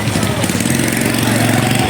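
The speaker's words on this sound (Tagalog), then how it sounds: "Uy, may motor." A motorcycle engine runs steadily nearby, a loud, rough droning putter that holds constant through the moment.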